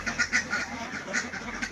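Ducks on a farm holding about 1500 birds quack in repeated bursts, a flock calling at moderate distance with an uneven, chattering rhythm and no one speaking.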